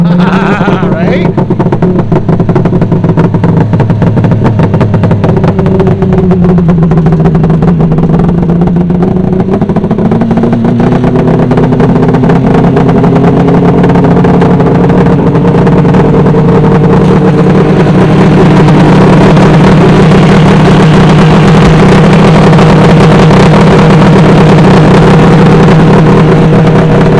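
A cold Polaris triple-cylinder snowmobile engine fires up and runs loud and close, its pitch wavering and rising as it warms, with someone talking over it.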